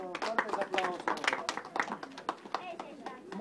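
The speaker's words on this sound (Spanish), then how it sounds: "Fuertes aplausos, fuertes aplausos." Applause at a children's school graduation ceremony: scattered hand claps mixed with excited children's voices and shouts, loud and close, rising and falling throughout.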